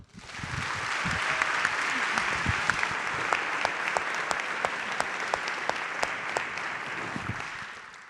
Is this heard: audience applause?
yes